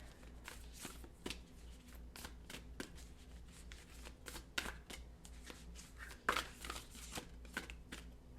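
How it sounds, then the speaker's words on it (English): A fresh deck of oracle cards is shuffled by hand, a quiet, close run of rapid papery riffles and soft flicks repeating in an irregular rhythm, with no talking. "let's go ahead and get another card from this deck"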